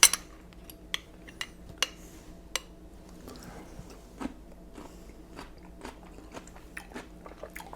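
Homemade refrigerator cucumber pickles are bitten and chewed close up, giving a series of sharp crisp crunches at irregular intervals in a quiet room.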